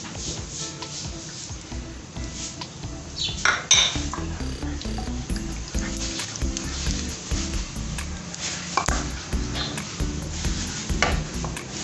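Cumin seeds sizzling in hot oil in a pan, a steady close hiss with a spoon clinking and stirring against the metal now and then.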